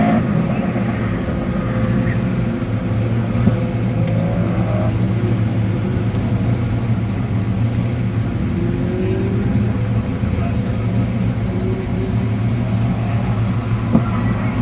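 Autocross car driving a course at a regional airport during an SCCA regional event: a steady engine drone with shifting revs, heard from a distance under a constant noise bed.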